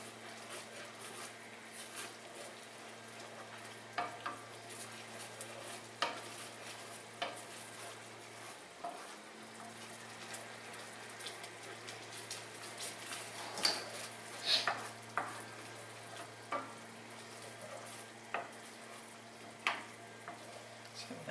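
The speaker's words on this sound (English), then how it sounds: "So now all the sugar's cooking." Sugar cooks down in a pan into a thick, dark sauce for General Tso's chicken, giving a steady low sizzle with occasional stirring clicks and scrapes and a faint hum underneath.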